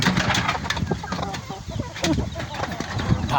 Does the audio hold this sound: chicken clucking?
yes